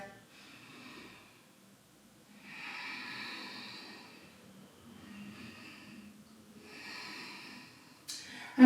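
Deep, slow breaths during a yoga session, four long airy inhales and exhales in an even rhythm, close and fairly soft, ending with a sudden louder bump.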